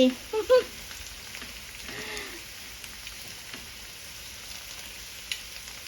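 Giant squid tentacles sizzle on a grill, a steady soft frying hiss running throughout with a few brief louder sounds at the start and a faint voice in the background.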